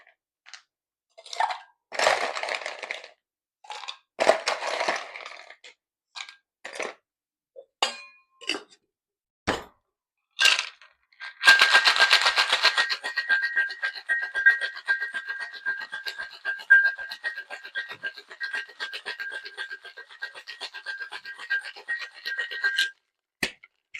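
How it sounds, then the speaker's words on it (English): Ice being scooped into a cocktail shaker tin and then shaken for a Cosmopolitan, scattered clanks and clinks of cubes dropping, then a sustained rapid metallic rattle of ice shaken hard for about ten seconds. "we're going to be filling up our shaker tin with ice and shaking for about 15 to 20 seconds"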